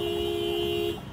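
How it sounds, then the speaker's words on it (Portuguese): A single long, steady car horn blast sounds close and loud for about a second during a church car parade, then cuts off. "vamos buzinando aí"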